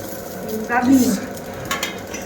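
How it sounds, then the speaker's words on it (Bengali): Bay leaves with panch phoron, cumin and other whole spices crackle in hot oil for shukto with bitter gourd, potato and katla fish belly, a short burst of sizzling with a spoon scraping the pan. "তেজপাতা দিলাম দুটো, ফোড়ন, পাঁচফোড়ন, জিরে ফোড়ন আর একটু মিঠে ফোড়ন দিলাম"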